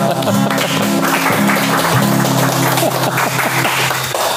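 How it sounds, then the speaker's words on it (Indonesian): An audience applauds at a religious talk, a dense, steady wash of clapping that runs the whole stretch over sustained, tonal music or singing underneath. "Wah, tepuk tangan dulu."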